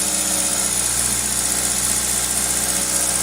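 A 2000 Toyota Celica GTS engine stuck at a high idle, a steady close mechanical hum with constant vibration and faint high whine, unchanging throughout.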